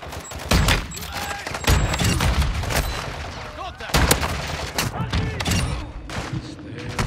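Rapid gunfire in a shooter video game as a player dumps a full magazine, sharp repeated shots and thumping blasts in uneven bursts, loud and close, mixed with other game noise.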